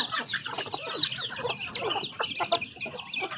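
Farm chickens cluck in a busy, irregular series of short calls, fairly close and loud throughout, with no talk.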